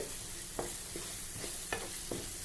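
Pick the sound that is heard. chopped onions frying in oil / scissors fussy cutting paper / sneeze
chopped onions frying in oil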